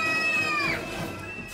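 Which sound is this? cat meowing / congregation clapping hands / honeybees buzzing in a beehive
cat meowing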